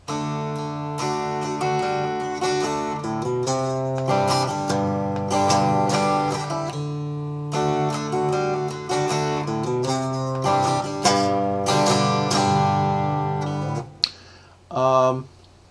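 An electric guitar plays the main theme of a song, moving through a three-chord progression with ringing chords and small fill notes. It plays at moderate volume with a short pause near the end.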